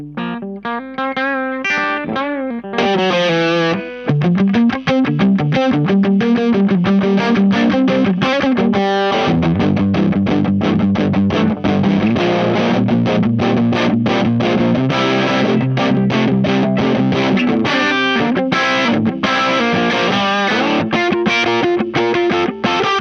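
Sire L7 electric guitar played through a PastFX 18V Power Booster pedal, giving a loud, driven, distorted tone with sustained chords, quick strums and single-note runs that go on without a break.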